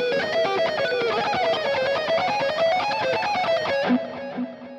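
Fast electric guitar sequence in a neoclassical shred style, a steady run of rapid, evenly picked notes played alone and loud, ending in a held note with a brief slide near the close.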